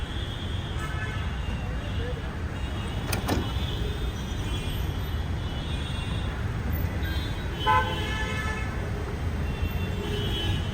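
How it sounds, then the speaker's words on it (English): A Yulu rental electric bike gives a couple of short, bright horn toots over a steady outdoor rumble of traffic and voices. "this is the horn"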